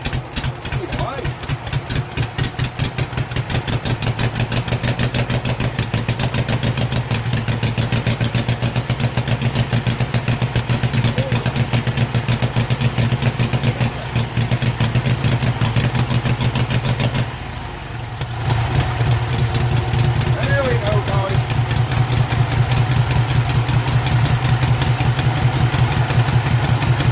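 A Norman motorcycle engine idles loudly and steadily with a rapid, uneven chugging rhythm through a ram horn exhaust, briefly dipping before running on.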